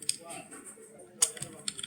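Faint, scattered keystrokes on a computer keyboard, a few sharp clicks in an uneven pattern, heard quietly at close range.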